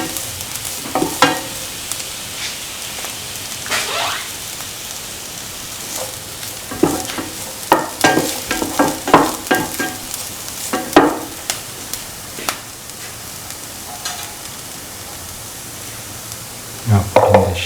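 Lemon chickpea rice being stirred and mixed with salt in a pan, with a steady sizzle beneath repeated sharp scrapes and clinks of a utensil against the pan, loud and close, continuing irregularly throughout.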